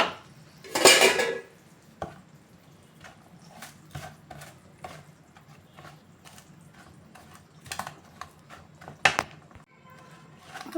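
Millet laddu dough being mixed with cashews and raisins, close clinks and scrapes of a spoon against a metal bowl in irregular bursts, with quiet stretches between, no talking.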